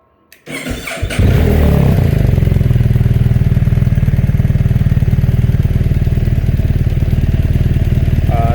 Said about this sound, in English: Yeah, I notice it is throatier. The muffler is louder at idle.